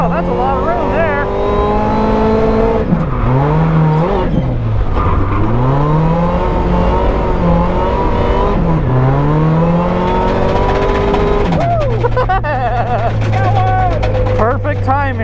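A Toyota AE86 drifts at night on a road course, its engine revving loud and close with rising and falling pitch sweeps, then holding a steady high drone near the end.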